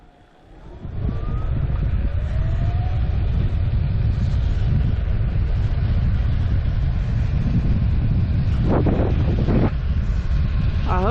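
Steady, loud wind roar buffeting the microphone while riding a 20-inch BMX e-bike conversion at about 22 mph, with a faint rising whine and a couple of brief tonal chirps; no speech.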